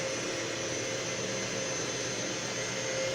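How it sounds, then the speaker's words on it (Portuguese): Electric stand or hand mixer whirring steadily at high speed as it beats a fluffy cake batter thinned with a little milk, a continuous close motor drone with no talking. "Olha a diferença da batedeira, a velocidade."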